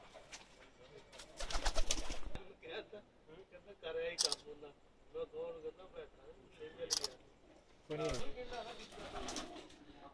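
Pakistani pigeons coo softly at close range, low murmuring calls under a voice, with a few sharp camera-like clicks and bursts of wing or handling noise scattered through.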